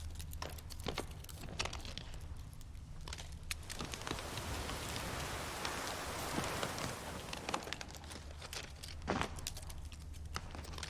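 Steady rain falls in the Witcher 3 game world, a dense continuous hiss with scattered drop patters and faint low ambient rumble, swelling in the middle and easing toward the end, with no talking.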